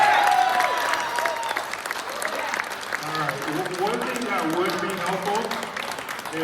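Audience clapping fills a room at a mayoral candidate forum on Mare Island, a steady, sustained applause from a crowd with a few voices and tones mixed in, lasting the whole stretch without pause.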